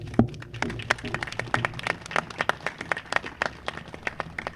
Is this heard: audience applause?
yes